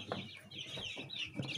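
Newly hatched chicks from an incubator give faint, high cheeping peeps in quick, overlapping bursts, close by and quiet, with soft rustling beneath and no talk.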